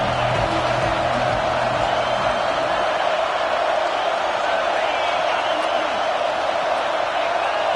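Stadium crowd at a football game roars steadily throughout, a dense, loud wash of cheering voices before a fourth-down play, with no single voice standing out.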